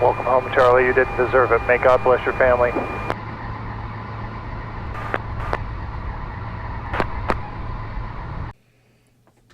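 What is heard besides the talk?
airplane landing, with air traffic control radio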